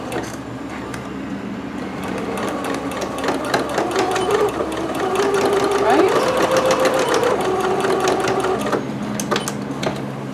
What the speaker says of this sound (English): I'll start stitching this closed